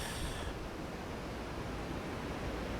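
Winnebago River spilling over a small waterfall, a steady broadband rush of water that stays loud and unbroken with no voices.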